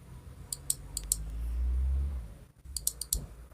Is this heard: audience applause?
no